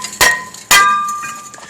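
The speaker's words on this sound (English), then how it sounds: "hit it with a hammer" A hammer strikes a brake rotor on a 1998 Jeep Grand Cherokee Laredo twice. The sharp metallic clangs are followed by bright, ringing tones that decay slowly.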